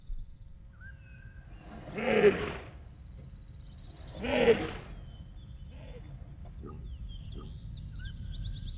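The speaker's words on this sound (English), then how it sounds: "if you listen close, the end of the audio clip does kind of sound like the Cove Birds" Bird-like calls from the Riven game world, the Cove Birds, with two louder broadband bursts followed by softer chirps and faint whistles over a low ambient rumble.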